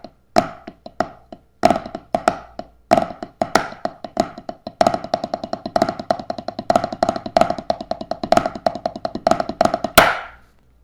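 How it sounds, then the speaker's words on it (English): A drum fill played on a drum kit, left-handed flam accents followed by sextuplets, sharp close strokes starting sparse then building into rapid dense rolls, ending with a crash, without any talking. "So a fill that I play a lot is a left-handed flam accent followed by sextuplets."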